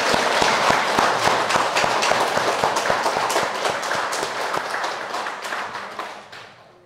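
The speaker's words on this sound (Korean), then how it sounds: "은혜 감사하기 위해서 다시 한 박수를 한번 칩시다" A hall audience at a Buddhist Pure Land dharma talk claps together in dense, sustained applause. The clapping stays steady before tapering off toward the end.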